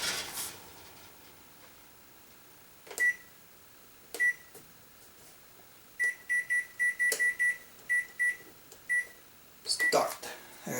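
A kitchen microwave oven hums while potato chips cook, then its timer sounds a run of short, evenly spaced electronic beeps, close and clear, with a few clicks and thumps around them.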